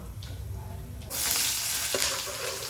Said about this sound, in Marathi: मग खडा मसाला टाकलाय.